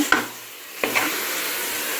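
Curd being stirred into frying masala for egg biryani, a few soft scraping stirs with a faint sizzle underneath, fairly close and no talking.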